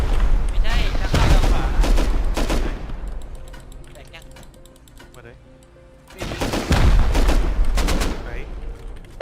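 Gunfire during a raid in Rust: loud bursts of rapid automatic shots, a quieter stretch with scattered pops and clanks, then another heavy burst of fire.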